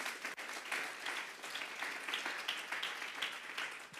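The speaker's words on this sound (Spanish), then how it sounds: "Vamos a darle un fuerte aplauso pues al Señor." Congregation in a church clapping together, a steady, fairly distant wash of many hands that stays even from start to finish at low volume.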